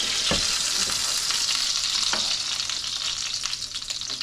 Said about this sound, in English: I'm just gonna let these simmer off for just a few moments so that they're cooked through.